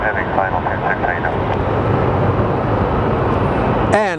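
An American heavy airliner on final approach to Phoenix Sky Harbor Airport, its steady loud jet roar filling the clip with a brief higher-pitched sound near the end, while a radio voice talks over it.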